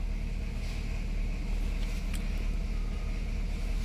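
A 2009 Nissan Cube with a no-acceleration fault idles and is given light throttle, its engine a steady, close, loud rumble that holds fairly even throughout.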